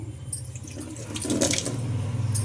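Lamb trotters being rinsed under a running tap in a home kitchen sink, with a steady stream of water splashing over the meat and irregular sloshing as the pieces are handled nearby.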